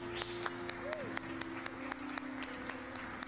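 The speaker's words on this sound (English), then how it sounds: "Let's give them a hand clap." A baptism service congregation claps, light scattered handclaps sounding faint and somewhat distant over a steady hum and low background voices.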